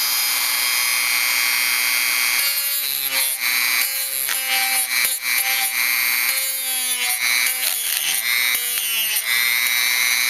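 A Dremel rotary tool cuts open a motorcycle throttle sleeve, giving a steady high-pitched whine that runs throughout, with repeated grinding bursts as the cutting wheel bites into the sleeve.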